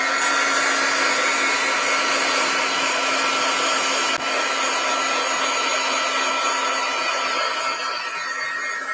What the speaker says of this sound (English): Let me take a heat tool and try to dry this.